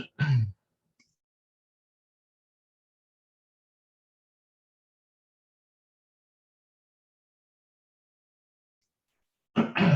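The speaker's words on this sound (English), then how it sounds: "Excuse me, I had to clear my throat there for a second." A man clears his throat in two short, close bursts, one at the very start and one at the end, with near silence between them.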